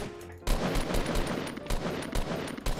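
Rapid gunfire in the video game Fortnite, loud and close, rattling out in dense automatic bursts for a few seconds with no talking.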